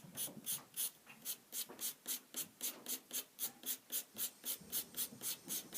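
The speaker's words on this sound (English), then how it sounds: "And this is cross-hatching." Chalk pastel scratches across paper in quick rhythmic cross-hatching strokes, about three per second, close and fairly quiet with no talking.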